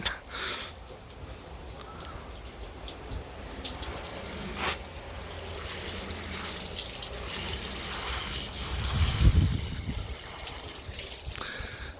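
A hose sprays water steadily over a van's bumper while it is washed, a continuous hissing rush that briefly swells louder near the end.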